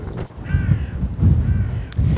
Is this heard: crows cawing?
yes